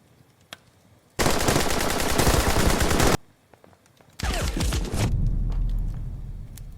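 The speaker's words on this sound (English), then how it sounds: "The Bren section advance and open fire at the grenadiers." Bren light machine gun fire as a tabletop wargame battle effect: two long, loud, rapid automatic bursts separated by a short pause, the second trailing off into a lower rumble.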